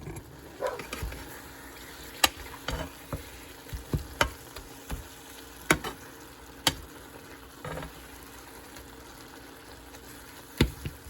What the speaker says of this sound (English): So now it's time to brown the beef.